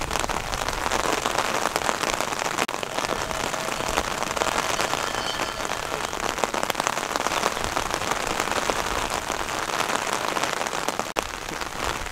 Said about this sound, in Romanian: ploaia nu ne lasă